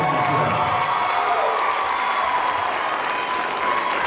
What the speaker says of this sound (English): please give these ladies and gentlemen a big round of applause for their performances here